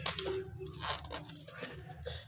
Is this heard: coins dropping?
yes